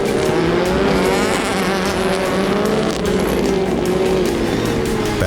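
Rallycross race cars, led by a Subaru, roar together in a tight pack, with engines loud and sustained at high revs and faint tire noise under the continuous close racket.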